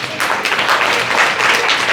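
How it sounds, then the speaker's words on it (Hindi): Loud applause from an audience at a group class in Vishwas Nagar, Delhi, a dense steady wash of clapping filling the whole moment without a break. "तालियां बजा दो जोरदार"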